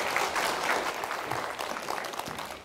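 Steady audience applause from a seated crowd at a parenting talk concert in Gwangju, a dense, even patter of many hands clapping for the full stretch, close and moderately loud, with no voices on top.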